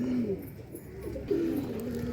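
Pigeons cooing in a breeding loft holding mated males and females with chicks, with two clear, drawn-out coos standing out over a low ambient hum.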